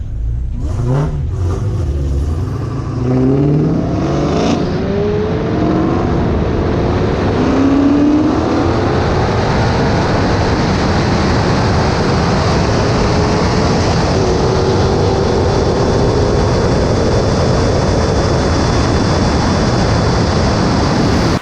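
A Dodge Challenger Hellcat and McLaren cars roar and rev hard up through the gears in a roll race, with rising pitches sweeping upward and heavy wind rush throughout, close and continuous.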